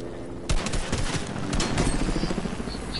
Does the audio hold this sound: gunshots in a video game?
yes